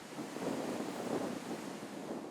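Steady wind on a disc golf course blows out over the water, a continuous broadband rush with gusty swells and rumble buffeting the microphone, alone without talk.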